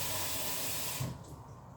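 Tap water runs steadily into a pot for boiling noodles, a broad close hiss that stops abruptly partway through, leaving quiet room tone.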